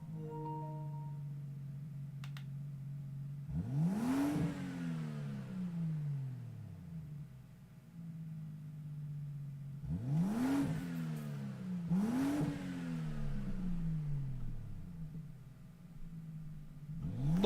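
Toyota Supra engine in Gran Turismo 7, Group 3 racing at Fuji International Speedway: a steady drone that rises in three loud revving sweeps, each climbing sharply then falling away, with a brief pause between.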